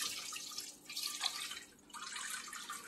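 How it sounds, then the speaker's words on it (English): Rice flour batter for cheung fun pours through a filter, a close, steady liquid trickle and patter that briefly drops off twice before running on. "Then I put it through a filter."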